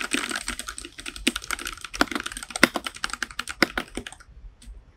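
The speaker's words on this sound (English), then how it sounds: "So I just tried typing." Typing on a Keychron K6 mechanical keyboard gives close, rapid, irregular keystroke clacks in quick bursts. The clacking stops just past the four-second mark, leaving a short quiet tail.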